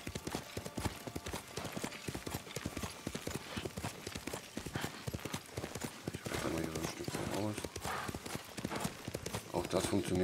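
A horse's hooves clip-clop at a gallop in Ghost of Tsushima Director's Cut on Iki Island, a fast rhythmic pounding over game music and effects.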